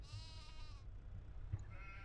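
A sheep in the Farming Simulator 25 video game gives a short, fairly loud bleat, then fades out over a steady low rumble of game ambience.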